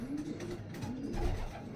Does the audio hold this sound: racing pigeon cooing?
yes